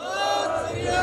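A crowd at a Sikh village memorial fair roars a jakara battle cry in unison for the farmers' struggle, many voices merging into one loud, sustained shout.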